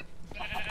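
Blocky sheep in Minecraft bleat in a short wavering cry, fairly close and clear, lasting under a second with no talk over it.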